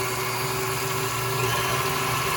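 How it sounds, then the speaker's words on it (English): A stand mixer running at high speed while whipping a dalgona coffee topping gives a steady, loud motorized whir with a constant hum and no pauses or voices. "I turn my stand mixer on pretty high"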